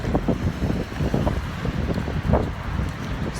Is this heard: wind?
yes